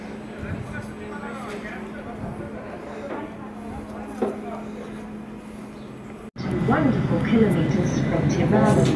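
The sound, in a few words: riding on a train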